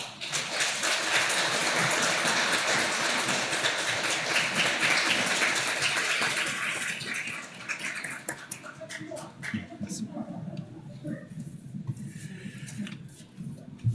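A church congregation claps for a newly appointed deacon at a New Year Sunday worship service, loud and full for several seconds before thinning into scattered, fading claps and quiet room noise.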